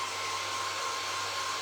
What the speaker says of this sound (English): He doesn't like the dryer.